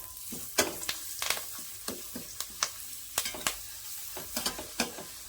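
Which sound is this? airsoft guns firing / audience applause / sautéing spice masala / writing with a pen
sautéing spice masala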